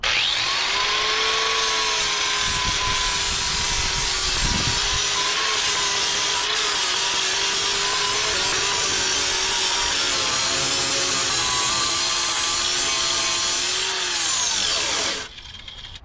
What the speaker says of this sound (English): we'll get the grinder going here and just start taking a little bit off at a time